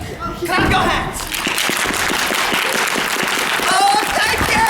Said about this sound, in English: If you believe, clap your hands.